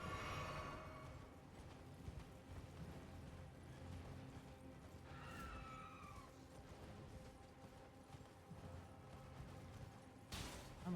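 Horse galloping across open ground in Elden Ring, a steady muffled clip-clop of hooves running under game ambience, with a couple of brief sharper effects along the way.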